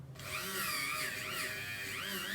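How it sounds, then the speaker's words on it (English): A Dremel rotary tool with a sanding wheel grinds metal on a motorbike inlet manifold, a close, continuous high whine that wavers in pitch as pressure changes, starting abruptly and running alone. "Dremel and just a sanding wheel."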